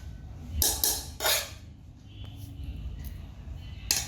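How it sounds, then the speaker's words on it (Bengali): Rice is served onto plates at home, with a few bright clinks and scrapes of dishes and serving utensils in short bursts, moderately close, with quiet background sound and faint voices. "এখন খাবার সার্ভ করে দিচ্ছি এই হাজব্যান্ডকে এই যে ভাত দিয়ে দিলাম"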